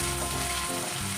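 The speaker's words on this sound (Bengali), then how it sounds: "এবার আমি ভালো করে আবার একটু পেঁয়াজটাকে ভেজে নেব।" Chopped onions fry in hot oil, giving a loud, close, continuous sizzle with a dense crackling texture throughout the short moment.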